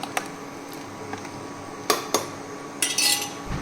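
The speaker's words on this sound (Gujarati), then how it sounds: "ખીચડી સરસ રીતે હલાવી દઈશું" Spoon clinks and scrapes against a pot while mixed vegetable khichdi is stirred, heard as a few sharp metallic taps and a brief rattle at close range.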